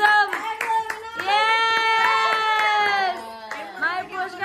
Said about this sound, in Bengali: তালিয়াম তালি তালি একদম